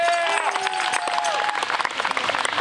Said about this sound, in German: das Publikum darf noch mal applaudieren.